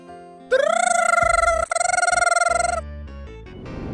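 An alarm clock rings in a family home at night, giving a loud, warbling electronic tone that runs for about two seconds, breaks briefly, resumes, then stops, followed by quieter background sounds.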